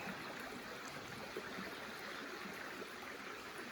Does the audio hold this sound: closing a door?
no